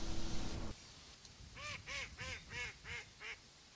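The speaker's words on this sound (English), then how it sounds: "Koloa ducks were here all the time" Hawaiian koloa ducks quack in a short run of six or seven clear, evenly spaced calls at moderate distance, after a brief burst of broadband noise at the start.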